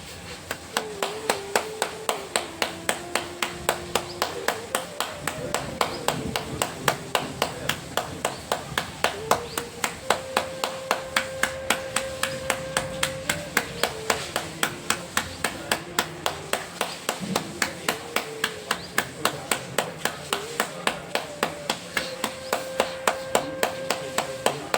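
Steady, rapid hand clapping in a continuous even rhythm during bhastrika yoga breathing practice, loud and close, with a faint tonal drone beneath and no talk over it.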